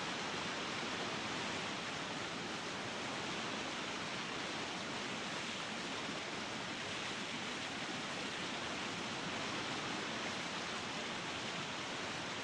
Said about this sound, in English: when he's done, he'll come play in the waterfall